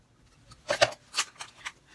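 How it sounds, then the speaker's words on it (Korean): Scissors snip through a glued plastic sink drain hose on a kitchen sink cap fitting, giving a few quick close crunching cuts in a short burst, with no talking. "똑같은 방식으로 가위로 자른 후 해보겠습니다."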